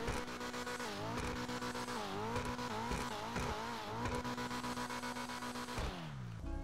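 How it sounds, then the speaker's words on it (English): Annis Euros X32 HSW, a Nissan 350Z-style car with a three-pedal manual transmission in GTA Online, revs loudly and continuously, its engine note climbing and dropping through repeated throttle blips and a brief shift before settling near the end. "Definitely sounds like the Annis Euros we already have in the game."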